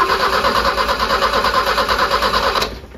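A car's starter motor cranks steadily with a rapid pulsing whir after the loose battery has been retightened, loud and close, cutting off abruptly near the end.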